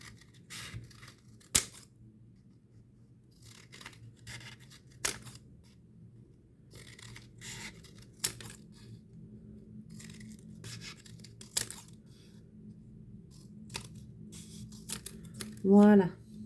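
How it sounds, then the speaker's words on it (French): Scissors snip through paper strips for a Christmas wreath craft, giving a few sparse, crisp cuts against a quiet room, with a louder burst of handling noise near the end. "Et avec le ciseau, je vais venir couper mes bandes."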